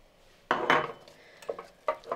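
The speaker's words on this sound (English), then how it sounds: "Give that a good stir." Herbs being stirred into buttery polenta in a pot, a spoon scraping and knocking through the thick mix in three short bursts with quiet gaps between, close by and moderately loud, no voices.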